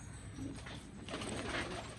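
Pigeons coo softly in a short, murmuring burst of low, rolling calls against a steady background hum.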